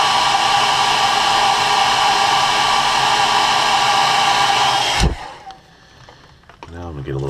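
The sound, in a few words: heat setting paint on a crankbait with a dryer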